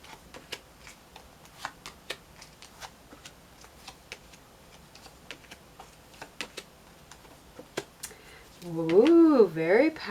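Tarot cards being shuffled and pulled for a reading: soft, irregular card flicks and taps, faint and fairly close, then a louder wavering tone rises near the end.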